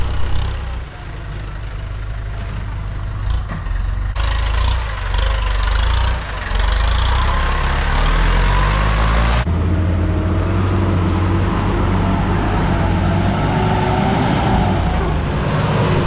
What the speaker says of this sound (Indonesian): Ini saatnya untuk menggunakan bantuan traktor untuk keluar dari kubangan lumpur ini.